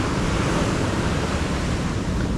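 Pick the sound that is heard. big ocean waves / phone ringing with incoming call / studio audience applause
big ocean waves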